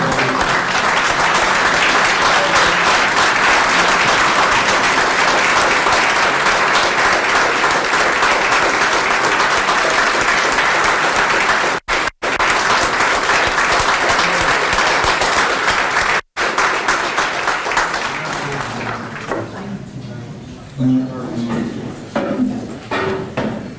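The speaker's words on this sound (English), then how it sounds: "you deserve a standing ovation" Sustained applause from a large crowd giving a standing ovation at a fire department awards ceremony, loud and steady for about twenty seconds before thinning into scattered clapping and murmuring voices.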